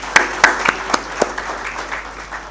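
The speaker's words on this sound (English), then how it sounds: "Guys, let's give a round of applause to Cynthia." Audience applause at a winter school event at Victoria Falls, a short burst of scattered claps that quickly thins and fades.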